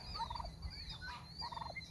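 Two bursts of turkey gobbling from meat turkeys, a rapid warbling rattle repeated about a second apart, fairly close over a low background rumble.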